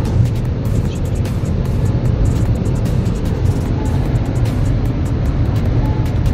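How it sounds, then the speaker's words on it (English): Mahindra XUV400 electric SUV cruising at about 160 km/h on a concrete road, heard from inside as a loud, steady low rumble of tyre and wind noise with constant road roar and no engine note or voices. "We're running at 160 kilometers an hour and I can single-handedly drive this car."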